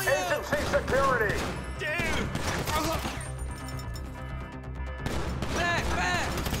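Gunfire in a GTA 5 lab shootout, loud, irregular bursts of shots mixed with shouted voices and game effects, pausing briefly before resuming.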